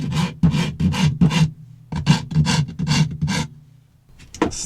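A plywood edge is rounded over by hand with rhythmic rasping strokes, close and crisp, in two quick bursts of several strokes each separated by a short pause.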